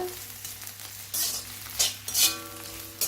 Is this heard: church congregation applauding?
no